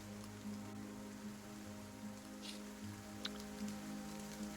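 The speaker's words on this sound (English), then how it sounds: "You wake up and you can hear that it's raining outside." Faint rain falling outside, heard as a soft, steady patter with a few scattered drops and a low constant hum beneath it.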